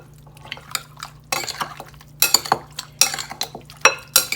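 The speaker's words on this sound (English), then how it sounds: "now you want to go ahead and mix everything together" Utensils clink and scrape against a bowl while pork marinade is mixed for Haitian griot, a quiet start giving way to irregular, close, sharp clatters.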